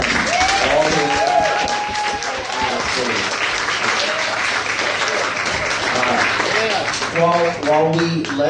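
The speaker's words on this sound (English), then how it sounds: "Can everybody please give another round of applause to Mark and Ian" Sustained round of audience applause at a startup competition event, broad and even clapping throughout, with voices and cheering mixed in beneath it.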